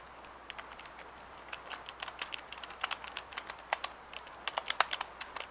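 Clicky keys of a Freewolf old-school-style computer keyboard being typed on in quick irregular bursts, close and fairly quiet, with no voices.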